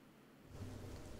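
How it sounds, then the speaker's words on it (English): Rain falls in the video game Fears to Fathom at a forest lookout, a soft steady patter swelling into a fuller rumbling wash with a low roll like distant thunder, no voices. "Ooh, it's raining."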